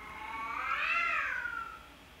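A cat lets out a single drawn-out meow that rises and then falls, close and clear against a quiet background.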